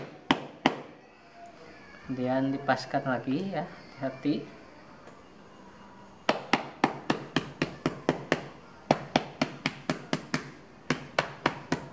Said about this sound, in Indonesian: Sekarang kita ketok menggunakan palu.